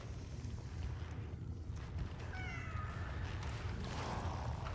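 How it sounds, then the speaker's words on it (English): Cat meows in a video game, faint rising mewing calls around the middle of the clip over a steady windy, rumbling ambience, with no talking. "Hello, cat."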